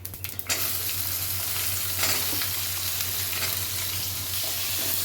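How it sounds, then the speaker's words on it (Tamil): Mixed colourful bell peppers with curry leaves and asafoetida sautéing in a hot pan, a loud continuous sizzle after a few initial clattering hits, steady and close with no talk. "இப்போ ரெடியாக எடுத்து எல்லா மிளகாயும் போட்டு வதக்கிடலாம்"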